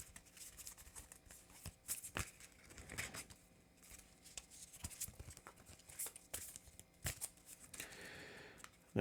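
Cards from a Marvel Champions game deck being shuffled, a run of quick riffling and snapping bursts spread across the stretch with short pauses, close and fairly quiet, with no talk.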